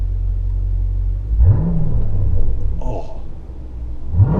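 A 2018 Dodge Durango SRT engine rumbles close by with a deep idle, rising into a couple of revving swells and dropping back, with a brief voice exclamation over it.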